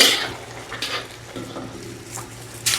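Scraping and clinking of a utensil stirring chicken with fish sauce and chicken cubes in a pot, several irregular strokes over a soft sizzle, close up with no talking.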